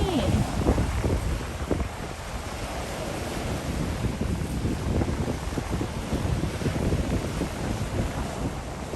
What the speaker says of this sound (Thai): ลมแรงมากเลยวันนี้